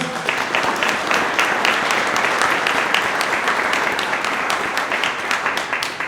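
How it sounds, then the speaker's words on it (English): A crowd applauds loudly and continuously, dense clapping sustained for several seconds without a break. "How about a round of applause?"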